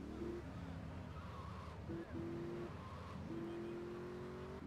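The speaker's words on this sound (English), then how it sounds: "This car is so fast." Fast car in Grand Theft Auto 3 on Nintendo Switch: a quiet, steady engine drone that holds level pitches and briefly drops and resumes as gears shift, running continuously.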